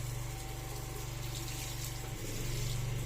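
A steady low mechanical hum of a natural gas generator powering a house, with a constant drone, running evenly throughout, slight shift in tone near the end, no voices.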